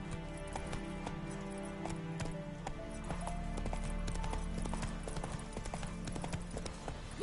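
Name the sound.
horse galloping, from the video game The Witcher 3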